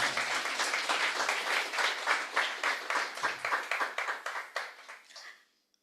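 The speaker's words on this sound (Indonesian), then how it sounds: "Boleh kasih tepuk tangan teman-teman ya." Applause from an audience of friends at a Saturday entertainment show, a steady dense clapping that tapers off into separate claps and stops.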